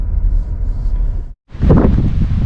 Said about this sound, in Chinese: 好大风啊，太大风了